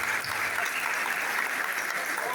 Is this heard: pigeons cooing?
no